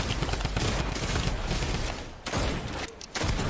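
Rapid bursts of Fortnite gunfire crackle almost nonstop, with a couple of brief pauses between volleys, loud and close.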